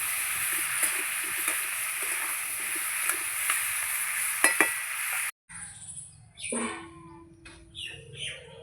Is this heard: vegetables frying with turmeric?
yes